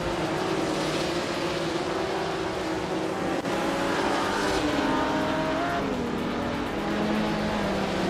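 Race car engines from a racing video game at the Castle Combe circuit roar in a steady, dense drone, rising and falling in pitch as the cars work through tight corners, loud and unbroken throughout.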